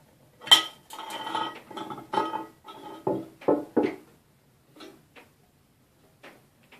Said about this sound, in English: go ahead and place the sink onto your vanity